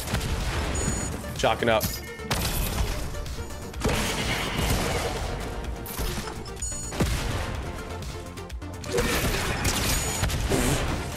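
Gunfire in Fortnite, with sharp, repeated shots and crashes bursting through a dense game soundscape while a player talks over the action.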